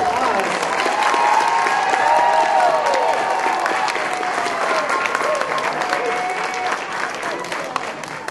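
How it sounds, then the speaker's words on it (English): An audience gives sustained applause after a first grade Christmas performance, a steady, dense wash of clapping that fades slightly toward the end, with faint voices mixed in. "Please give them another round of applause."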